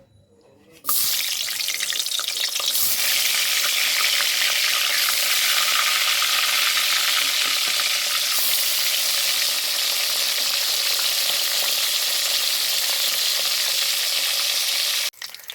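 Fish rubbed with salt and turmeric frying in hot oil, a loud, steady close sizzle that starts abruptly and hisses continuously for about fourteen seconds before cutting off, with no talking.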